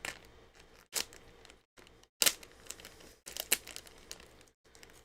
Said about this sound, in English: we'll get the hobby knife to cut open the plastic here